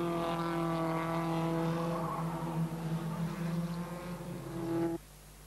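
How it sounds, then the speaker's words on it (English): A BMW M3 touring car races in a 1988 production car championship round, its engine a loud, steady high-pitched drone passing close by before cutting off sharply near the end. "Robin Brundle's BMW M3"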